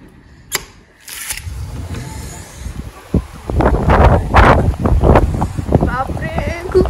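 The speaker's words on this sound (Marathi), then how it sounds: "खूप जोरात वादळ वारं" Strong stormy wind blusters outdoors on a cold, rainy day in the USA, gusting and roaring against the microphone in loud surges that build over several seconds after a brief quieter start.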